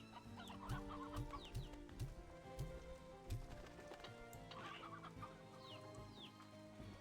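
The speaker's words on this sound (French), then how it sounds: "Voilà, un poussin rocailleux." A rocky chick in the video game Slime Rancher 2 clucks in a few short, chirpy bursts over a steady bed of rain-like patter.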